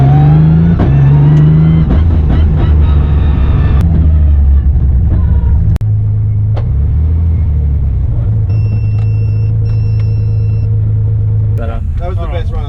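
A 4.1L V6 twin-turbo car on a drag strip run, loud close engine roar and rumble with shifting pitch, fading toward a lower drone near the end.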